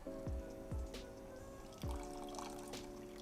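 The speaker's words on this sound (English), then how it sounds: "Can add a little bit more water for the second squeeze, just to make sure we're not wasting anything." Water is poured during curry cooking, added for a second squeeze of the mixture. Several short splashing pours land one after another over a few seconds, close and fairly quiet, with dripping between them and no talking.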